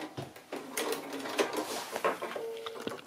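Sewing machine back stitching the seam of a quilted gift bag, a short run of quiet, rapid mechanical stitching broken by brief pauses and small clicks.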